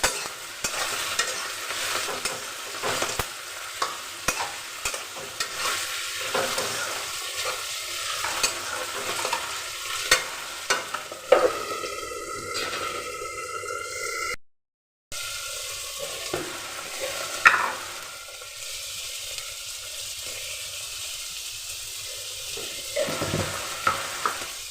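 Potatoes frying and being stirred in a pan with green chillies, a steady sizzle broken by repeated scraping stirs and some running-water noise nearby.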